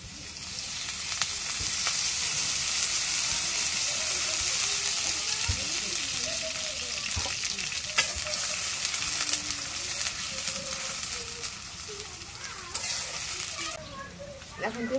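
Cooking oil hits a hot pan and sizzles loudly and steadily throughout, with scattered crackles and light clatter from the pan.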